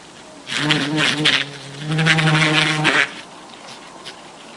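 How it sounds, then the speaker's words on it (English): A bee buzzes close by at a flower, its vibrating wing muscles giving two loud, high-pitched bursts of steady drone with a short pause between them, then the sound fades out. "When he's buzzing down there near the flower, he vibrates those wing muscles, but he actually doesn't flap the wings, and it's a lot higher pitch."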